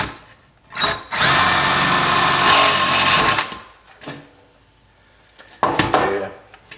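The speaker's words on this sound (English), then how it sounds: "I'm gonna see if I can kind of drill them at an angle" A power drill bores holes at an angle into a metal can for a homemade wood gas stove, with one long steady whir between shorter bursts, loud and close.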